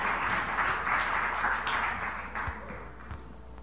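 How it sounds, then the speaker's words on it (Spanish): A church congregation applauds steadily, a dense wash of clapping that holds for a few seconds and then gradually thins out. "denle un aplauso al Señor"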